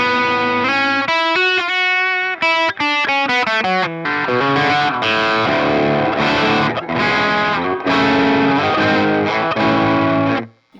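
Electric guitar through a Bogner Ecstasy Pandora mod amp with the volume rolled down, chiming out a jangly, lightly overdriven tone in ringing strummed chords and arpeggios, loud and upfront with no voices.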